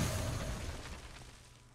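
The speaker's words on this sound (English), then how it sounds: "Fire the cannons again." A cannon firing in the card game Hearthstone gives a single loud, broad boom at the start that decays and thins out over nearly two seconds, with no one talking.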